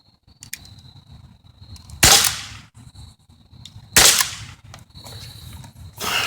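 A CO2 airgun fires at a metal target: three sharp, loud cracks spaced about two seconds apart, each with a brief ringing tail, over faint background noise.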